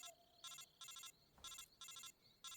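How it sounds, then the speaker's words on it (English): In the video game Metal Gear Solid 3, a phone ringtone chirps in five evenly spaced electronic bursts, with short quiet gaps between them and no talk over the ringing. "It's the most annoying ringtone I've ever heard, Snake."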